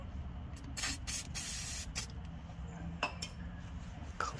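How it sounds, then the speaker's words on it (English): Spray cleaner hisses onto a suspension part of a 2005–2009 Mustang S197 during a bump stop install, several short bursts in quick succession, close and fairly quiet, with faint clinks between. "Spray it,"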